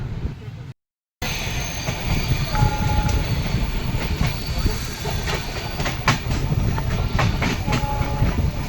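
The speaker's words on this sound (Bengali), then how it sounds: "নির্ধারিত সময় থেকে 37 মিনিট লেটে টুন এক্সপ্রেস অযোধ্যা স্টেশনে চলে এসছে" The Doon Express rolls into Ayodhya station, running late, with a continuous rumbling rail roar, rhythmic clickety-clack of wheels over joints and faint hissing, loud and close throughout, with a brief dropout near the start.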